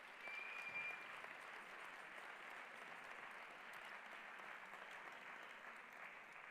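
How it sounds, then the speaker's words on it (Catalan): An audience at a culture awards gala applauds a band, a steady, fairly distant wash of clapping that holds evenly throughout with no voices. "Un aplaudiment per ells,"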